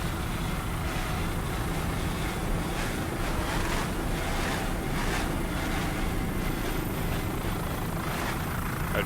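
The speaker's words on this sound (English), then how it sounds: "Nice throttling there by Alan Christie." A 30-foot AMT offshore racing powerboat in Superstock class at the 2002 Miami Super Boat Grand Prix, its engine roar steady and broad under rushing wind and water noise, with slight surges as the throttle works.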